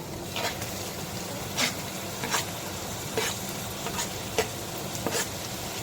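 Onions sautéing in a pan for a pepper curry hiss in a low, steady sizzle, broken by several clacks of a spoon stirring, with tomatoes being tipped in toward the end.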